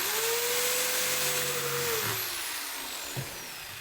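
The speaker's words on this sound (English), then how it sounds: "The old faithful jigsaw." An electric jigsaw cuts into a van body panel, its steady motor whine running loud and continuous for about two seconds before winding down and stopping, with a faint clunk afterward.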